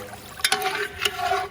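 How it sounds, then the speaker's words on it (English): Water is poured into a gumbo pot with duck, andouille and turkey necks, giving a brief splash and liquid gurgle with a couple of sharper hits, close and moderately loud. "So what we're gonna do is just add a little water."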